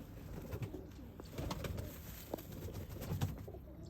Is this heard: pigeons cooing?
yes